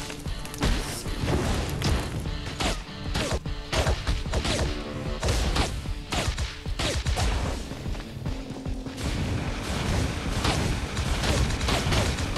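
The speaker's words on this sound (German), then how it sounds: "Explosion!" A video-game explosion in LEGO Nexo Knights Merlok 2.0 bursts amid a dense, loud stretch of crashing, banging battle effects that run continuously with no clear pause.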